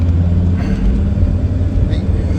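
A Sprinter van engine stuck at a 3,000 rpm limit because of a dead turbo radiator, droning as a steady, loud, low rumble from inside the cab over the whole stretch, with a voice talking over it.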